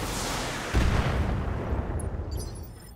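Mech weapons fire in the BATTLETECH video game, a dense, loud barrage of booming blasts that swells suddenly and rumbles on, fading slightly toward the end with no talking over it.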